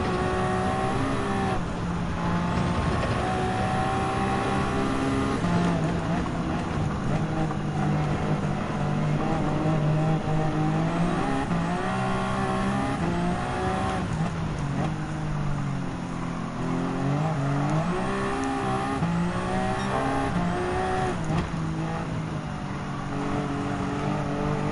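A race car engine in Gran Turismo 7 revs hard under acceleration, its droning pitch climbing and dipping through gear changes in a continuous, close, loud whine with no voices over it.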